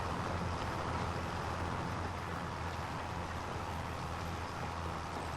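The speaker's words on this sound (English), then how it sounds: "The tractor can definitely pull this plow when you pull it around a corner." Tractor pulling a plow around a field in Farming Simulator 25, a steady low engine drone held without a break, loud and close, with no talking.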